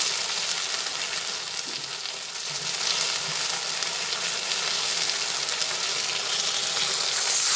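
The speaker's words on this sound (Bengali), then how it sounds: "ভালোভাবে তেলের সঙ্গে ভেজে নিচ্ছি" Mustard paste fries in oil in a pan, giving a loud, steady, bright sizzle with faint stirring scrapes throughout and no voices.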